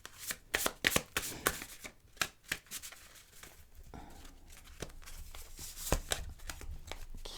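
Tarot cards shuffled by hand in a series of crisp riffling bursts, close and fairly quiet, busiest at the start and then settling into softer, irregular shuffles with no talking.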